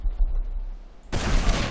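A rocket-launcher blast goes off in Trouble in Terrorist Town, a sudden loud broadband explosion that erupts after a second of quiet game ambience and roars on to the end without fading.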